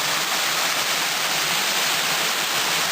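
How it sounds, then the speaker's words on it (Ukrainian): Steady, close rushing of a small waterfall on a mountain stream in the Yavirnyk ridge area, a continuous even roar of falling water with no pauses. "Невеличкий водоспад."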